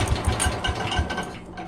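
An old engine, choke applied, sputters and chugs in an uneven rhythmic pulse of quick firing beats, fairly close and loud.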